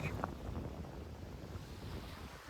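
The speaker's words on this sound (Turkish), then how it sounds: "Çok rüzgar geliyor." Steady wind buffeting outdoors at a large beach cove in Çeşme, Turkey, a continuous low rumble with gusts.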